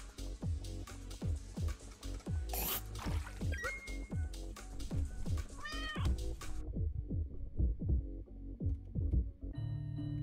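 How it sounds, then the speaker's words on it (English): An angry cat meows repeatedly in the game Turnip Boy Commits Tax Evasion, sharp yowls over a run of quick dripping plinks and game effects, the sounds thinning out toward the end. "Angry kitty is angry."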